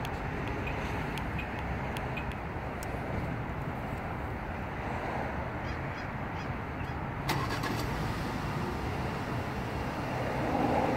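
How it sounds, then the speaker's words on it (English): A 2018 Audi Q5 started remotely through its factory key fob gives a few light ticks, then its engine catches and settles into a steady, moderately distant idle. "here we have a 2018 Audi Q5 with the remote start integrated into the factory key fob by pressing the lock button 3 times"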